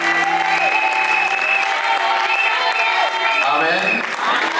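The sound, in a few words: congregation applauding and cheering at a religious wedding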